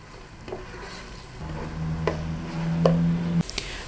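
Carrots fry gently in a pan over a low flame, giving a soft, steady sizzle with occasional light stirring and scraping sounds, close and quiet, with no talking.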